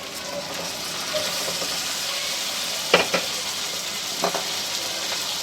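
Finely chopped tomatoes sautéing with onion, garlic and ginger for chicken curry, a constant close sizzle with a few sharp utensil taps against the pan partway through.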